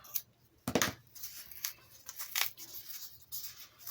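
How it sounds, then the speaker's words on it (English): Scissors snip strings off foam Easter eggs, a few sharp, close cuts with a louder burst near the start and lighter snips and rustles after, no talking. "So I'm preparing some of these eggs. Just cutting the strings off."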